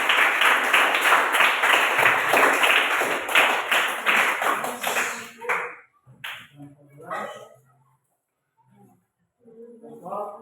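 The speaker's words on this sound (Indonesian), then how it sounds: "berikan tepuk tangan dari kelompok 1, kelompok 2 dan kelompok 3" Classroom of students clapping for groups one to three, a dense burst of applause for about five seconds that then breaks off into scattered claps and quiet murmurs.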